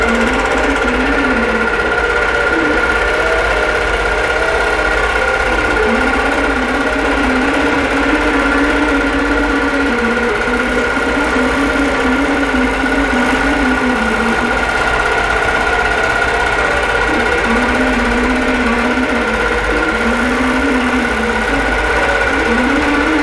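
A computerized embroidery machine stitches a design, a loud continuous motorized whir with a fast rapid needle chatter and wavering pitch, steady throughout with no talk.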